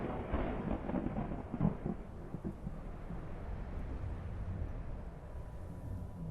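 Low rolling thunder in Skyrim stormy weather rumbles continuously, with a few heavier cracks early on before it settles into a steady distant growl, no voices over it.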